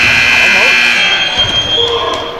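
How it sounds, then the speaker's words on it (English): A basketball game buzzer sounds at the end of the first half in a V League game, a loud sustained electronic tone under excited commentator talk that fades toward the end. "At the buzzer."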